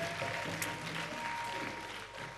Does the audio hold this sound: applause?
yes